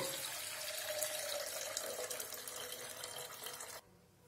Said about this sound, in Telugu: 10 నిమిషాల తర్వాత అండి ఇలా నీళ్లు వంచేసుకుందాము.